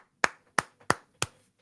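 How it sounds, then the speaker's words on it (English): A lone golf clap, four slow, evenly spaced hand claps, crisp and close, with a soft tap between the second and third, and silence around them. "Nick, you get the one and only golf clap at today's show."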